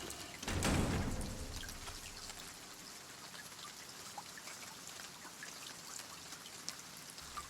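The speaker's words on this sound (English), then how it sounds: "It wasn't raining before." Rain falls in the video game Silent Hill 2 as a faint, steady patter and trickle. A louder splashing burst comes early on, then the quiet drizzle continues alone.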